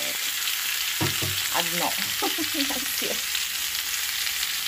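Potatoes fry in a pan with a steady, close sizzle and hiss throughout, while a voice speaks briefly over it in the middle.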